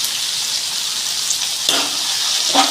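Shallots and onions sizzle steadily in a hot pan while being cooked for a squid roast, a bright continuous crackle with a couple of soft stirring scrapes near the end.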